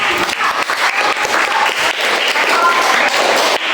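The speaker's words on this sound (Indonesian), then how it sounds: "tepuk tangan untuk kelompok" A classroom full of people claps together for a student group, a dense, steady patter of hands that holds for several seconds without dying down.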